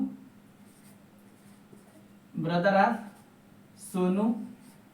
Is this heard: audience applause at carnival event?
no